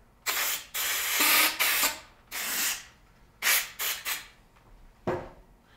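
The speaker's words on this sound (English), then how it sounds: "If you need some areas to get down in with some compressed air," Compressed air blows into a Marlin Model 1895 SBL rifle action during cleaning, in a series of short, forceful hissing bursts of varying length separated by brief pauses, close and fairly loud.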